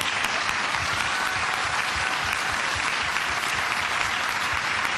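Sustained applause from a graduation ceremony audience in Querétaro, dense and steady throughout at close range, with no voices standing out.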